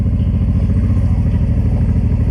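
A motorcycle engine drones loud and close while riding along a road in northern Portugal, holding a steady, rough mid-pitched rumble as it waits to overtake.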